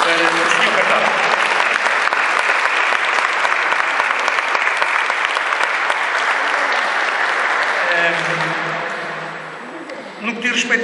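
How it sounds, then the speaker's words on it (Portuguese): A hall audience at a solemn anniversary homage session breaks into loud, sustained applause that continues steadily for most of the clip, then thins out and dies away near the end. "eu agradeço uma salva de palmas para o Sr. Cartaz"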